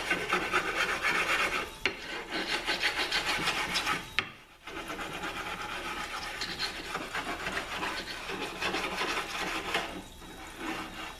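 A Mercedes 722.9 transmission valve body part is flat sanded in steady back-and-forth rasping strokes, close and continuous, with one brief pause partway through.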